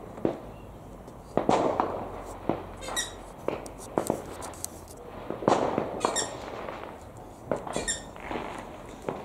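Fireworks on Guy Fawkes night burst outdoors beside an aviary of cockatiels: a series of scattered cracking pops, some loud and near, others fainter, with sharp crackling and squeaky chirps between them.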